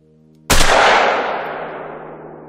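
A single loud hunting rifle shot in The Hunter: Call of the Wild, a sharp sudden crack followed by a long echoing tail that fades over about two seconds, heard alone.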